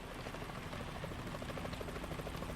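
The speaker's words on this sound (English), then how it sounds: "Is that a chopper I just heard?" A helicopter in the video game Metal Gear Solid 2 approaches with a steady, continuous rotor chop, loud and sustained on its own with no talk over it.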